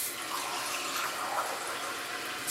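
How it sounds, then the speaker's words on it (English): Water is poured to top off a homemade orange juice sports drink, a soft, close, continuous splashing trickle lasting a couple of seconds. "I top it off with water."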